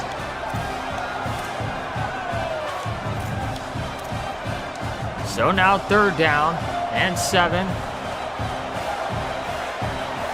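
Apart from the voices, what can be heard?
football stadium crowd cheering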